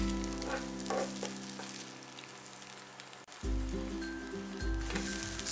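Okonomiyaki sizzles on a griddle after its final flip, a soft crackling fry that briefly cuts out midway and then returns a little stronger, with no talking.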